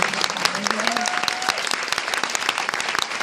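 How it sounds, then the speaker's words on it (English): Sustained audience applause for guest speakers at an International Women's Day event, dense steady clapping from many hands filling the room throughout, with a brief faint tonal sound early on. "Another round of applause, please, for all of them."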